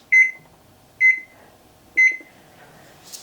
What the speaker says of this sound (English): I want to set the timer for 30 minutes.